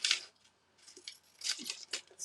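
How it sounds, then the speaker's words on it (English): Fiskars paper scissors snipping through paper in several short bursts of crisp, close cutting, with quiet pauses between cuts. "So these are my Fiskars scissors, which are the best paper scissors"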